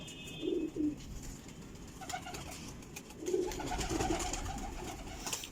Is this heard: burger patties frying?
no